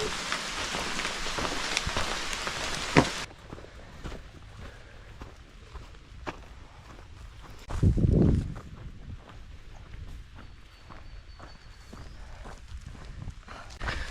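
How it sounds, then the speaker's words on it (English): Light rain sprinkles while hiking near a cave; a loud wash of rain patters close by for the first three seconds, then fades to a faint, steady patter with occasional soft taps and a brief rustle. "I've actually really missed hiking in the rain."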